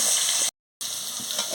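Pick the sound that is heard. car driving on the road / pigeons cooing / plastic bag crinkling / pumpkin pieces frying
pumpkin pieces frying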